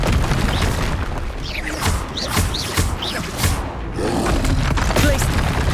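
Spell blasts from a Hogwarts Legacy duel, including Expelliarmus, land as a rapid series of booming, whooshing impacts with bright zips and crackles throughout. The combat stays loud and dense for the whole stretch.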